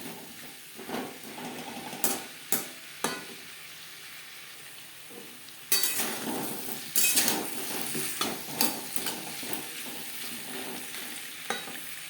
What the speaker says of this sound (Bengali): মশলার সাথে সবজি দু তিন মিনিট নাড়াচাড়া করে নেওয়ার পর দিয়ে দেবো পটল